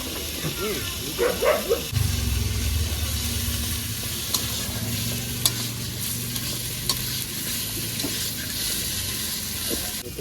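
Chicken sautéing in a pan at a nighttime winter picnic, a loud continuous sizzle with scraping stirs, a low engine-like drone beneath the first seconds and a brief dog bark near the start.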